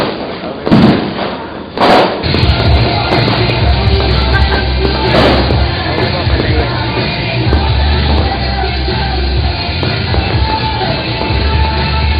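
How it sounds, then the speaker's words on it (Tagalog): Fireworks go off at a December dance party in a few sharp bangs and thumps, followed by a continuous noisy crackle, while people shout and yell nearby. "ganda ng paputok yan. Panoorin mo na yung paputok."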